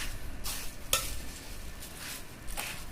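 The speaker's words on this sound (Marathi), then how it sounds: "मित्रांनो, आता आपण याला सगळं मिक्स करून घेणार आहे." Wet bhel ingredients are tossed and mixed in a bowl, soft rustling and scraping with a sharp clink of a utensil against the vessel, moderately close and quiet; no voices.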